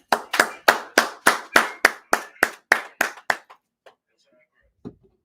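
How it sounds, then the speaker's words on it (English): A group at a brotherhood class in Fayetteville, North Carolina, claps in unison about a dozen times in a steady, even rhythm. The claps are sharp and close, then taper off into a few scattered last claps and quiet. "let's clap it up"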